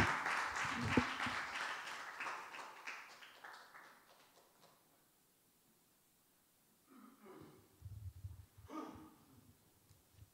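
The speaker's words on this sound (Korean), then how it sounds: "우리 박수로 한번 환영을 한번 해주시기 바랍니다" A church congregation claps to welcome a pastor to the front: a short burst of applause that quickly fades away, followed by near quiet with a few faint breaths and soft taps.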